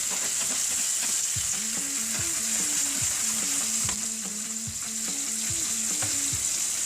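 A pork chop frying in butter in a pan, a steady close sizzle with scraping or stirring sounds running through it.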